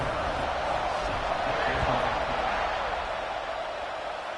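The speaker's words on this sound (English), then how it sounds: "this crowd is buzzing after that last score" A stadium crowd buzzes at a football game in Florida after a score, a dense, steady roar of many voices that holds loud and even throughout.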